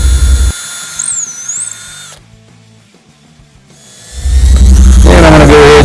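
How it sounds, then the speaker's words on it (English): A power drill whines loudly in two bursts, pre-drilling screw holes, separated by a quieter stretch of faint clicks and mechanical rattling, the second burst biting hard into plywood. "I'm going to go ahead and pre-drill 2 holes for my screws in the middle of the groove."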